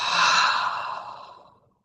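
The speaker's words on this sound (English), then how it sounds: "Big breath in through the nose. Open mouth exhale." A deep exhale through an open mouth during guided meditation, a loud breathy sigh that starts strong and fades away over about a second and a half, alone with no talk.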